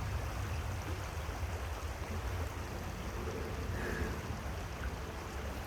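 A river flowing beside a forest hiking trail, heard as a steady, soft, broadband rushing wash that stays even throughout, with no voices.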